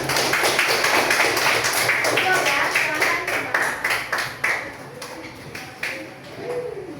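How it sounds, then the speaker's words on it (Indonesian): Pupils in a fifth-grade primary classroom give a round of applause for a group, loud dense clapping that thins into scattered claps toward the end, with a teacher speaking briefly over it. "Kasih tepuk tangan untuk kelompok 1."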